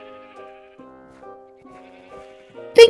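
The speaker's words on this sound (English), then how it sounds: "Mr. White Sheep, this way, please" A sheep bleats in a Minecraft-style game, wavering, nasal calls repeating close and clear, ending in a short loud burst of noise.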